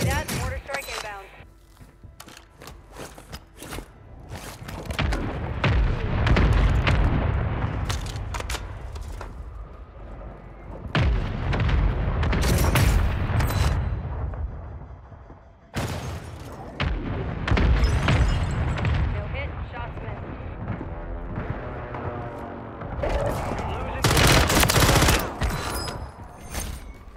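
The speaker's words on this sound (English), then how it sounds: "Mortar strike inbound." Heavy booming blasts roll in from a mortar strike in Call of Duty Warzone, a dense barrage of loud overlapping impacts with crackling debris, repeating in waves over nearly half a minute.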